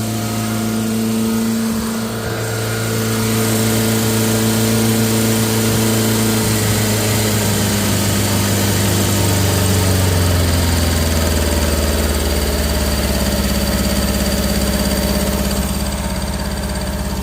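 A rough-running Toyota Tercel engine idles loudly and close, with a steady low drone, vibration and a faint knocking rattle throughout, its pitch dipping slightly partway through, and no talking.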